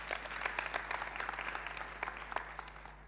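Audience applause at a forum on displacement in Africa, a steady wash of many hands clapping with no speech over it, moderately distant and sustained throughout.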